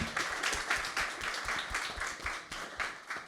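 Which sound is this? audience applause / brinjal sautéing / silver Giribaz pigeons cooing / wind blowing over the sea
audience applause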